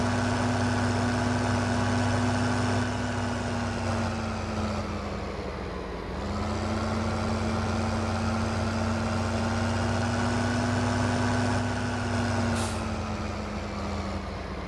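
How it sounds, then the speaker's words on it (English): Steiger 9190 tractor in the Farming Simulator video game, its diesel engine running at a steady, loud drone with a constant low hum throughout and a brief dip near the middle, no talking. "Get our old Stagger 9190 up and running."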